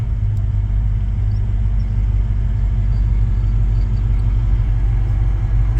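Low, steady engine rumble and road drone from inside a moving 1962 Dodge Lancer, constant and fairly loud, with no voices.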